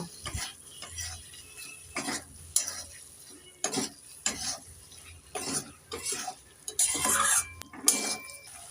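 Fried potatoes are stirred into cooked masala in a pan for an egg and cauliflower curry, giving repeated scraping and clinking spatula strokes over a light sizzle, in irregular bursts with short pauses.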